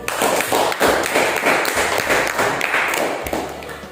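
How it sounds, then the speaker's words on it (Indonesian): Dense, steady applause from a classroom of students for a presenting group, filling the whole stretch at close range and tapering slightly toward the end, with no clear talk. "kita kasih aplaus untuk kelompok Al-Malik"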